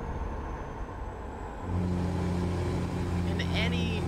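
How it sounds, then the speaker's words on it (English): A Peterbilt 389 car hauler engine in American Truck Simulator idles low, then swells into a steady, louder revving drone, with faint voices and a brief higher whine near the end. "any time you can add Slav Jerry's engines, that's a good sounding truck"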